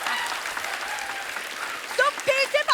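A studio audience at a comedy talk show claps in a loud, dense wash of applause that carries on steadily, with a voice beginning to speak over it near the end.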